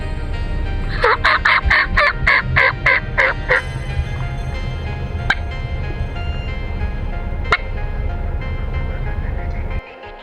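A wild Merriam's turkey in Montana gobbles in a rapid burst of rattling calls, fairly close, followed by a few isolated sharp clicks against a low rumbling background.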